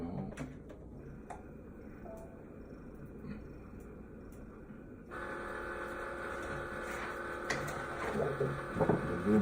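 A Cricut Maker cutting machine starts up with a few clicks, then a steady mechanical hum. Partway through, a louder tonal motor whir joins in, with carriage movement and rattling near the end.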